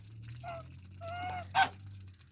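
Domestic ducks quack in a farmyard, a few separate nasal honking calls rising one after another and peaking in a sharper call near the end, over a steady low hum.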